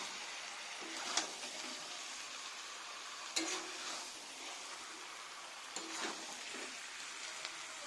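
Chicken frying in a pan while being stirred, a soft continuous sizzle with a few scraping strokes at spaced intervals, quiet and close.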